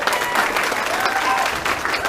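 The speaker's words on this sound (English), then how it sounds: "Let's give them a massive round of applause." Audience applause at a Christmas dance showcase at the Cracovia Club, steady broadband clapping from a crowd filling the whole stretch at an even, sustained level.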